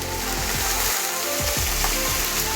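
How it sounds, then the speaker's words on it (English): White wine splashes into a hot pan of shrimp pasta, setting off loud continuous sizzling and frying with brief stirring scrapes and no talk over it. "So we're gonna add a little bit of white wine"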